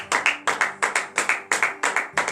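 Congregation at a Friday morning prayer service in Benin clapping in a steady rhythmic pattern, loud and close, with sharp repeated double claps and no voices.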